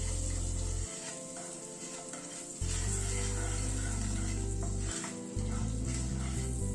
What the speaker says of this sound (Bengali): বাটারের সাথে ব্রাউন সুগারটা হালকা করে একটু টস করে নিচ্ছি